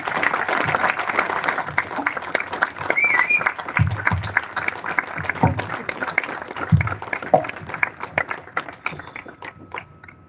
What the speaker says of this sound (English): So clap, please. Let's clap for everyone.